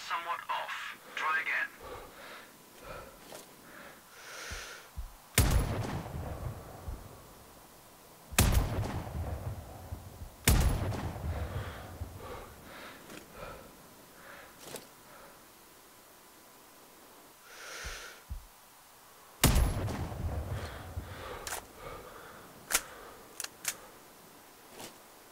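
Sharp sniper rifle shots ring out in the video game Sniper Ghost Warrior Contracts, several loud cracks with echoing tails spaced seconds apart, with game ambience and someone talking between them.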